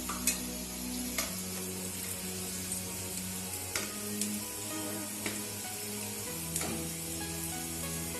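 Soya kebabs with cornstarch frying in a pan, a soft continuous sizzle with a handful of light clicks as they are turned, fairly quiet with a steady hum beneath and no talking.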